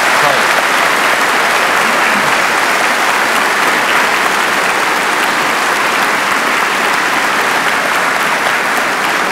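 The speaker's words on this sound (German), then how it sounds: "Ich glaube, Sie kriegen einen strahlenden Applaus." Dense, sustained applause from a TV studio audience at a 1981 German game show, loud and even throughout with no break.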